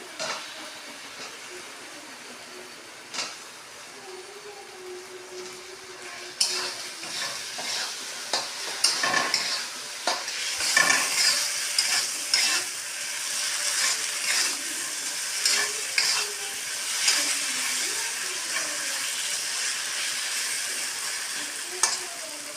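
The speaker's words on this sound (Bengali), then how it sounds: "আলুটা একটু ভাজবো মশলাটার সাথে" Potatoes frying in spice paste in a pan, a steady sizzle overlaid with repeated scraping and stirring strokes that grow busier and louder partway through, close and alone with no talk.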